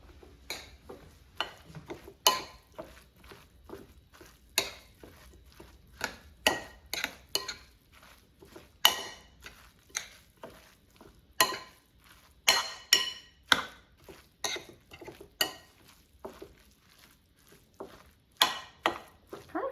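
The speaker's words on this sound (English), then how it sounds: "now let's mix everything together" Cauliflower tabbouleh salad being tossed in a bowl, with a steady run of close clinks and scrapes of utensils against the dish, irregular but continuous, and no voices.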